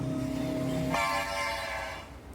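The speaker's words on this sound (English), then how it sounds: "So here the train started going by." A passing train blares its horn, a steady tonal blast that breaks into a higher-pitched horn chord midway, followed by the rumble of railcars rolling past nearby.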